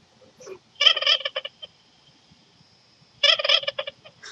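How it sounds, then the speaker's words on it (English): A toy in a UFO box gives out two loud, close bursts of turkey gobbling, separated by a quiet pause of about two seconds. "something is gobbling in the box"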